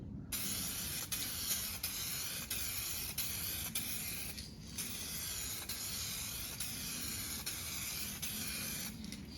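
A steady, close spray hiss lays a second clear coat onto a car headlight, with two brief gaps where the spraying pauses before resuming.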